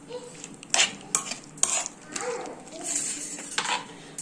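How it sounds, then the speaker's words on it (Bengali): A spoon stirs oil, tomato and ground spices in a clay pot for a mutton curry, giving soft scraping clinks and swishes in an uneven rhythm at close range, fairly quiet. "চামচে করে ভালো করে মিশিয়ে নেওয়া হচ্ছে তেল, মশলা"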